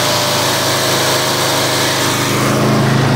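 A Craftsman Z6000 zero turn riding mower with a 22 horsepower engine and 42-inch deck runs loud and close, a steady throbbing drone that swells slightly louder near the end.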